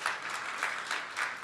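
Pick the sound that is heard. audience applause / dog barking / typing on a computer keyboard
audience applause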